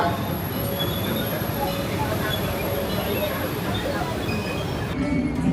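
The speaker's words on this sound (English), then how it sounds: "We're gonna get on the Disneyland Railroad right here." The Disneyland Railroad train runs with a steady, continuous rumble and rolling wheel noise, a constant close mechanical roar that carries unchanged to the end.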